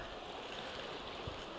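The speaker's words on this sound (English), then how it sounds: "here's another beautiful shot of the river right there" The Chattooga River flows in a steady, faint broadband rush, heard alone with no voices over it.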